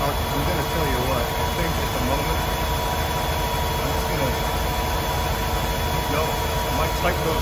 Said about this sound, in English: We got the engines running.